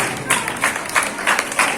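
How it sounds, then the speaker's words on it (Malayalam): Children at a school Independence Day event clap for prize winners in loose rhythmic bursts, close and fairly loud, with voices mixed in. "പ്രിയപ്പെട്ട കുട്ടികൾ നല്ലൊരു ക്ലാപ്പ് കൊടുക്കുന്നുണ്ട്"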